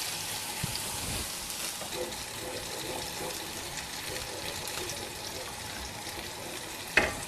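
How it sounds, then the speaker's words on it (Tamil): Water from rinsing a mixie jar goes into an ivy gourd (kovakkai) curry frying in a pan, producing a steady hiss and sizzle throughout with a brief louder knock near the end. "இந்த மிக்ஸி ஜார் கழுவி வச்ச தண்ணியை ஊற்றிக்கலாம்"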